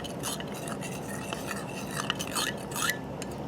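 A spoon works through a mixture loosened with two tablespoons of water for pork chow mein, giving a steady close scraping and swishing with a few light clinks on the bowl and no voices.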